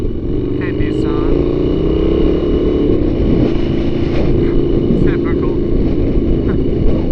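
An Ecosse Iconoclast V-twin motorcycle drones steadily at cruising speed, with a low engine hum and wind noise throughout while a rider talks over it.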